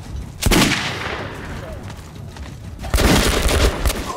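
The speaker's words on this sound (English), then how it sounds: "I think it's time to throw a grenade in there." A grenade blast in the video game Metro 2033 Redux, a loud, close burst of explosive noise with a sharp onset, then a rumbling tail and a second heavy crash of combat sound.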